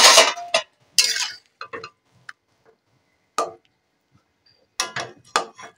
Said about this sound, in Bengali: তো ডিশটা আমি খুলে দেখে নেব সেদ্ধ হয়েছে কিনা।